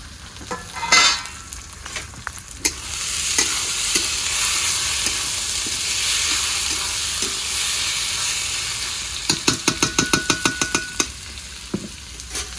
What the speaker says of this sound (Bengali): এবারে দিয়ে দেবো আমি 3টে মিডিয়াম সাইজের টমেটো কেটে রেখেছি, 3টে টমেটো।